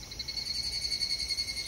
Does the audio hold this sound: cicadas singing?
yes